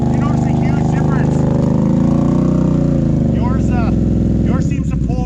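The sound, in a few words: Gen 3 Can-Am Outlander ATV engine revving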